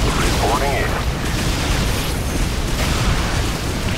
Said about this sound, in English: Well, there goes that explosion thing.